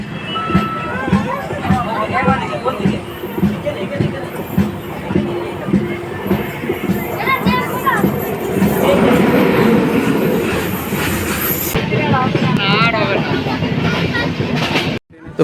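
The Kandari Express rumbles into Tamluk station, with rhythmic wheel clatter, a rising roar and a squeal of wheels, loud and close from inside the coach, with people talking faintly.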